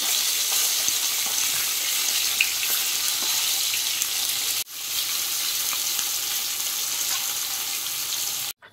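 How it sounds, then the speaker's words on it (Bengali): Silver carp frying in hot oil during village-style cooking, a loud steady sizzle and crackle close up that cuts out briefly midway and again at the end. "বাকি মাছগুলো ভেজে নিচ্ছি। তো এটা একটা সিলভার কাপ মাছ,"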